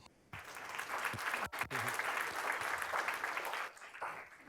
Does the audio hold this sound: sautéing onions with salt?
no